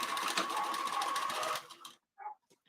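A sewing machine stitches fabric in a fast, steady whirring run that stops abruptly, followed by two brief mechanical clicks and taps in near silence.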